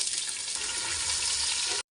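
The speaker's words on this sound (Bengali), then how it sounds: "আনারকলি চুলায় তেল বসাইও দিছে, তেল গরম হয়ে গেছে, দিয়ে দেব" Whole spices, cloves and cumin, dropped into hot oil on a stove and frying with a loud, steady, close sizzle that stops abruptly.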